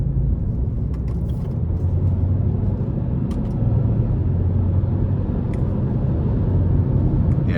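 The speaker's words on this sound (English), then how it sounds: "I like that we have the 8-speed automatic as opposed to the CVT here, just because it makes it that much more fun to drive." A 2024 Hyundai Kona N Line with an 8-speed automatic accelerates, its engine a steady low rumble heard from inside the cabin, rising slightly in intensity partway through, with faint clicks and no talking.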